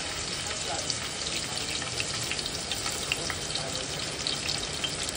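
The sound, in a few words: crushed garlic and chopped chili frying in a pan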